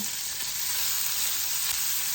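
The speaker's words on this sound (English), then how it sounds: "It's a ham pork. So I'm frying some of that." Ham pork sizzles steadily in a frying pan, a dense, close crackling hiss that holds evenly throughout with no voices.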